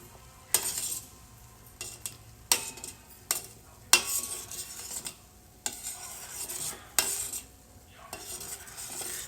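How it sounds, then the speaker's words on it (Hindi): Milk boils down to khoya in a pan while a spoon repeatedly scrapes and stirs the bottom, giving sharp rhythmic rasping strokes over a soft bubbling simmer. "और अब ये दूध उबलता रहेगा जब तक इसका खोया नहीं आ जाएगा, तब तक मैं इसको उबालती रहूंगी।"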